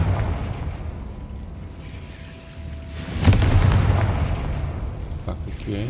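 A Confringo fire spell goes off in Hogwarts Legacy, a sudden loud blast about halfway through that rolls into a sustained rumbling roar over quieter game ambience.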